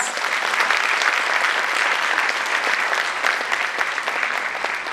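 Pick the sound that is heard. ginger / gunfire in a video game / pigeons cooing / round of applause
round of applause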